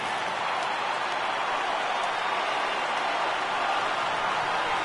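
A crowd of over 37,000 at a Milwaukee Brewers at Minnesota Twins baseball game roars and applauds in a dense, steady, sustained wash of noise with no pauses.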